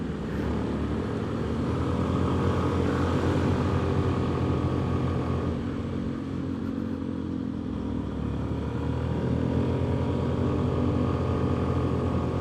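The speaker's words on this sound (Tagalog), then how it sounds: "Pilitan gumapang yung mga motor namin ay." Suzuki Burgman scooter engines strain steadily while climbing a steep, zigzagging trail up Mount Gulugod Baboy, a loud, continuous drone with the pitch sagging and rising under load.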